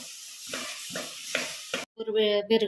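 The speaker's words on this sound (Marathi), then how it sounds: "कढईमध्ये दोन चमचे पाणी घालायचं त्यातच तीनशे ग्राम गुळ घालायचा आहे मिक्स करून घेऊया" A spoon stirs jaggery and a little water in a wok with four steady scraping strokes, close and moderately loud. A brief pause follows, then a louder, bubbling sizzle that sounds like a voice may be mixed in.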